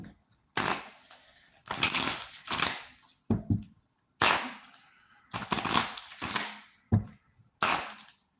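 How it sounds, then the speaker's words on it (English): A deck of playing cards being shuffled in repeated bursts, each riffle a sharp rapid flutter of snapping cards followed by a short pause, loud and close with no voices. "Shuffle the deck up"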